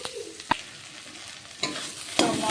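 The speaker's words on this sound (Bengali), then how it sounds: "পেঁয়াজ, আদা, রসুন, গুঁড়ো মশলা ভালো করে সব কষিয়ে নিই।" Onion, ginger, garlic and ground spices fry in a pan, a close steady sizzle broken by a few sharp clinks and scrapes as they are stirred.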